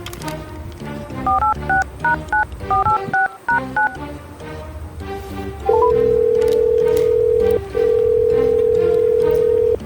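Rapid bursts of telephone keypad tones beeping in quick clusters, followed by a long, steady, loud tone that briefly breaks and resumes.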